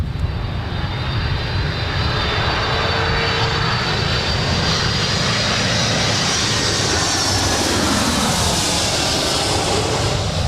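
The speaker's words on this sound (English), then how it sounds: "that was Delta 368 coming in from Honolulu. It's a 757-200." A Delta Boeing 757-200 arriving from Honolulu lands at LAX with a loud, sustained jet roar and high turbine whine that holds steady and close throughout, with no voices.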